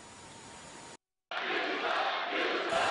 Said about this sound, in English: listen to the crowd out here. Jeers galore.